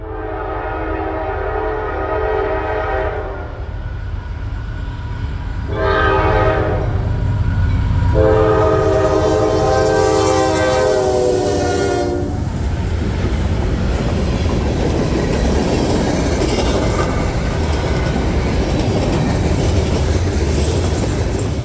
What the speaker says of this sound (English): now it's GE's turn to give us a show with 2 AC44 C6Ms and 1 ES44 DC